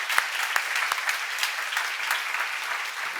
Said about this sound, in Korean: 감사한 박수 한번 드려봐